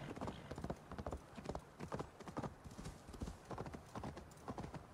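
Horse hooves trot in Assassin's Creed Valhalla, the seer's horse ridden across cold northern terrain; rapid, rhythmic clip-clop beats come up close and steady throughout, with a brief whinny in the mix.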